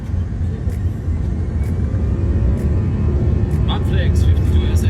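An Airbus A330 airliner beginning its takeoff on runway 22, a steady deep engine rumble heard from inside the cockpit, with voices talking over it.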